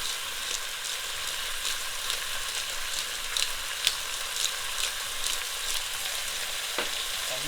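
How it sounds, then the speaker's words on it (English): Ground turkey browning in a frying pan for turkey pies, a dense, even sizzle that holds steady throughout with faint crackles and an occasional light tap, no one talking. "Now what you do is keep browning the turkey."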